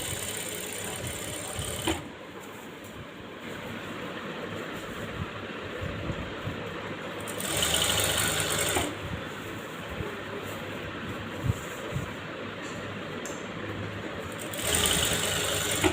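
A sewing machine stitches a border onto a saree in a steady, fast mechanical whir. The running comes in two long stretches separated by brief pauses and has a close, even hum, with no talk over it.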